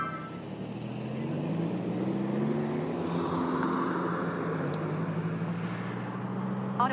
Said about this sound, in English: You can hear that guy's ghetto blaster in his car, his sound system.